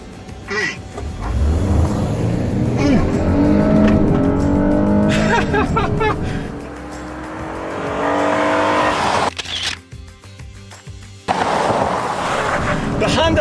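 A Honda car with a 280-horsepower V6 races against a Scout, with loud engines revving and rising as the cars launch and accelerate, then a sharp cut and another surge. Voices can be heard at points.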